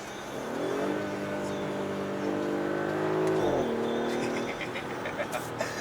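A 2018 Audi SQ5 Sportback with an 8-speed paddle-shift gearbox revs hard, its engine note rising steadily and then dipping on an upshift, followed by a scatter of crackling exhaust pops as the revs settle.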